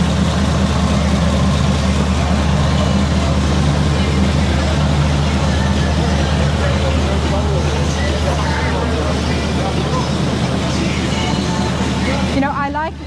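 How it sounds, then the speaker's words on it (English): An original, unrestored 1949 Ford Mercury stock engine idles with a steady low rumble, loud and close, running evenly throughout with people murmuring nearby. "1949, everybody, this is what the engine would have been like on the Mercury."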